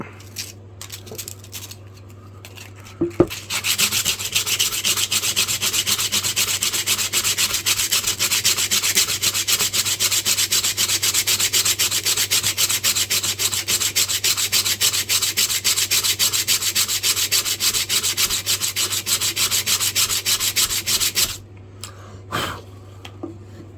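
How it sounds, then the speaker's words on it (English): Steady scratchy rubbing of hand sanding on an old hammer, a continuous rasp lasting about eighteen seconds before stopping, close and fairly loud. "I'm going to do a little bit of sanding on it."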